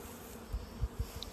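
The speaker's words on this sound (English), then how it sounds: "It's odd because it's only some of the hives with this many bees coming out." Honey bees stream out of a hive entrance with a faint, brief buzzing and a few soft low thumps as they take off, heard alone.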